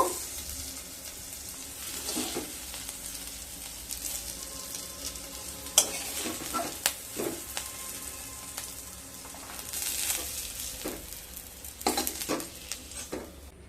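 Fried onion, dried red chilli and garlic stirred into fried pumpkin for a mash, a soft sizzle under intermittent scrapes and clinks of a spoon against the pan, close and fairly quiet, with no speech.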